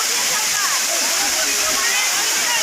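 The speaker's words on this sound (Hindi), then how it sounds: "वाटरफॉल।" Steady, loud rush of a waterfall, a continuous broadband roar with no breaks and no voices over it.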